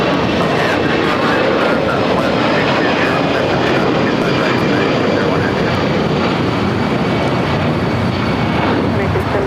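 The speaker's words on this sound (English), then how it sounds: "It's Air Tahiti Nui, the Dreamliner, the second one here today, coming from Papeete." An Air Tahiti Nui Boeing 787 Dreamliner jet airliner from Papeete at Los Angeles LAX airport makes a loud, steady engine roar that fills the whole stretch, with faint voices underneath.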